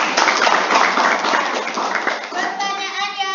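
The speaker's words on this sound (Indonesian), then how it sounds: "Tepuk tangan buat Antah" Students in a university geography class clap for a classmate, a brisk burst of many hands that fades after a few seconds as a voice begins speaking.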